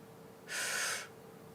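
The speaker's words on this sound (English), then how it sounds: "I'm yawning" A woman's drawn-out yawn, a single breathy exhale of about half a second, close and fairly soft.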